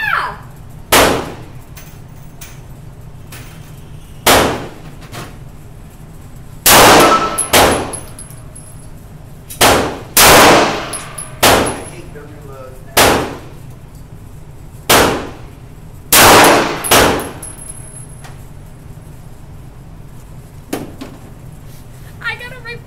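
Gunshots striking a metal target outdoors: about a dozen sharp, loud cracks, each followed by a brief metallic ring, spaced a few seconds apart, with people talking between shots.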